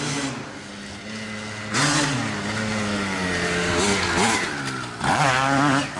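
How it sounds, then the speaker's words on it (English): 1988 Honda CR250 two-stroke hillclimber dirt bike roosting up a hill: a loud, close, raspy engine wail held at high revs, surging twice as the throttle is blipped. "I've never seen a bike roost like that"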